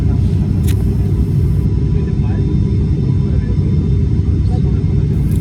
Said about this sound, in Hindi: जहाज़ कराची की तरफ लैंड हो रहा है, अब डिसेंड कर रहा है, आहिस्ता आहिस्ता नीचे की तरफ जा रहा है